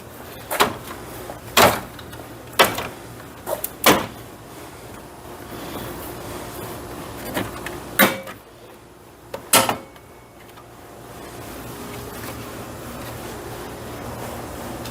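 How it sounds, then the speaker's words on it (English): Plastic clips snap and pop as a car's front grille is pulled free: several sharp, separate cracks spread over a quiet background with a faint low hum. "just grab the actual grill itself and pop it out"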